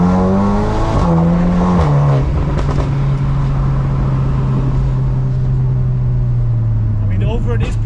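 A tuned VW Mk8 Golf R running near stage 3 power on its stock turbo roars loudly up close, its engine note climbing, dipping, then holding a steady droning pitch before rising again at the end.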